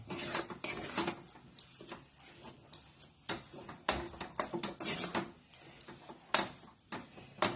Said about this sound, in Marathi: त्यातली साखर विरघळायची अजून। एकदम गॅस बारीक केलेला आहे मी, हलवत राहायचं